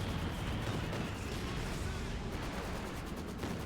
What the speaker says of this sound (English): We have Katyusha Fire coming in against the Mortar.